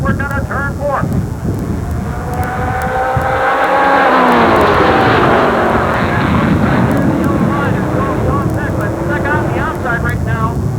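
Super late model stock cars race around Jennerstown Speedway, a loud, continuous engine roar rising and falling as the pack passes, with an announcer talking over the noise throughout.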